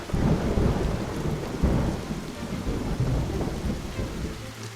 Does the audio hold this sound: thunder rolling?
yes